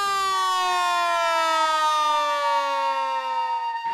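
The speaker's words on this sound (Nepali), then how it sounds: "अर्को एकजनाले हाते साइरन बजाएर समुदायलाई सूचना दिएका थिए" A hand siren sounds to warn a community of a flood, giving one loud, sustained wail that slowly drops in pitch before cutting off abruptly near the end.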